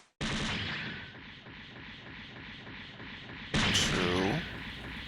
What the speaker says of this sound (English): all the weapons are being deployed from the shield